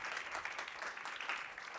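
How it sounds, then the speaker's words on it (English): A small audience at a university linguistics colloquium gives a round of applause for the speaker, a faint, brief patter of clapping with no voices over it. "So please give Jarrett Hill one more round of applause."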